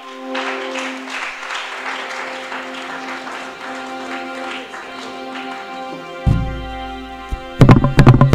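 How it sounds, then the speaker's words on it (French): A church congregation claps in acclaim of the Lord, a sustained patter of many hands over held organ-like tones, followed by sharp nearby thumps and clatter toward the end. "acclame encore le Seigneur très fort"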